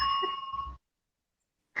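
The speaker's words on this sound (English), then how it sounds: "Oh, I got a bell." A small bell rings once with a bright, clear tone that cuts off sharply, followed by silence and then a brief second burst.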